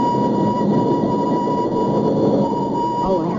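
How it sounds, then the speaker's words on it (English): Train rumbling steadily in an old-time radio mystery drama, a loud, continuous low roar with a sustained whistle-like tone throughout, ending with a brief clank. "Oh, I hope he's on this train, Uncle Flax."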